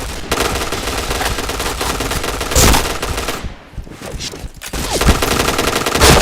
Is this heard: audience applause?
no